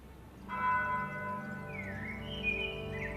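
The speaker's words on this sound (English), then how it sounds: "Distant church bells chime the hour." Distant church bells in a video game ring the hour with a sustained, resonant chime, joined shortly after by a higher gliding tone, heard at a moderate distance.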